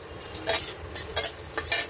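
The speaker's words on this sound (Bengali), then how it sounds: "একটু আলুগুলোকে আবার ভাজতে হবে" Potatoes fry in a pan in short bursts of hissing sizzle, about four of them, each lasting a fraction of a second, as the pieces are stirred and turned. No one speaks.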